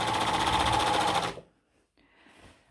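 A sewing machine runs steadily for just over a second, stitching an overcast zigzag seam along the underarm of a tulip sleeve, then stops abruptly, leaving faint rustling of fabric behind.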